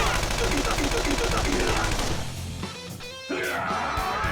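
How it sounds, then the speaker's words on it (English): Rapid gunfire from a character's attack in the video game Persona 5 Royal, a loud dense burst of shots for about two seconds, then a quieter stretch before game sounds return. "Gunfire."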